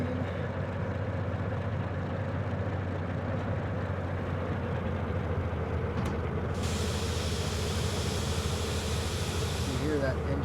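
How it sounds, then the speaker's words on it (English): In a train simulation game, a locomotive engine bogs down under load as a steady, low, droning rumble with a broadband hiss that swells partway through, continuous and fairly close. "You hear that engine bogging down."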